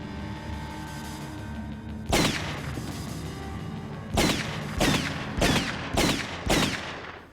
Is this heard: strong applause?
no